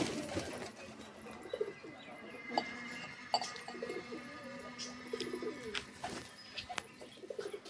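Pigeons coo softly at a pigeon house, low murmuring calls repeating through a busy outdoor background with occasional clinks and other bird chirps.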